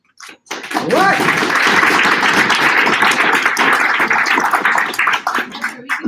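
A crowd at a 2019 federal candidates debate in Ottawa Centre breaks into loud, dense clapping that swells quickly after a brief pause and holds for several seconds, with voices and cheers mixed in before it tapers off.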